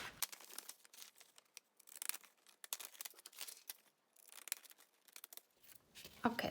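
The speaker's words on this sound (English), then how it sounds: "So I'm going to cut around this." Scissors cutting around a stitched paper image for a fabric junk journal collage, a close, quiet run of snipping and paper crinkling in uneven bursts.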